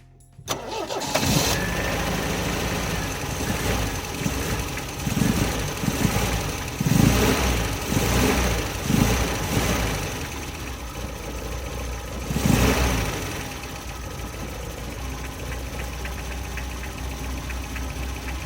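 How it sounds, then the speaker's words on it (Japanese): A roughly 50-year-old MGB engine, fresh spark plugs fitted, cranks briefly, catches, and settles into a steady idle with uneven revving pulses, close and loud, with no one talking. "無事にエンジンかかりましたんで完了となります"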